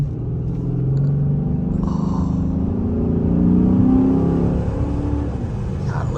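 A 2007 Chrysler 300C SRT8 muscle car engine revving and pulling hard under acceleration, a loud, deep rumbling drone with rising pitch swells, steady and close throughout.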